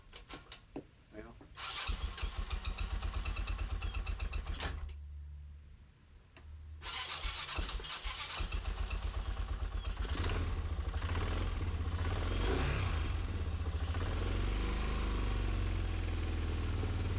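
A cheap used four-wheeler ATV, with WD-40 sprayed in its cylinder, cranks and catches, sputters, then settles into a loud, steady clattering run, with a voice talking over it.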